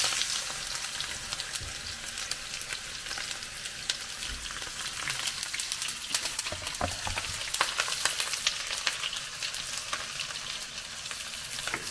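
Onion frying in a pot for bean borscht, a continuous close sizzle with scraping and stirring crackles throughout, no talking.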